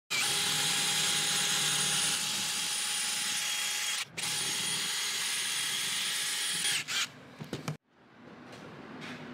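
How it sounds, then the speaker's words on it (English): Power drill drilling out stripped screws on a junkyard golf cart body, a loud continuous high whine for several seconds with one brief pause, then stuttering short bursts before stopping into quieter background. "I'm just gonna hurry and drill them out"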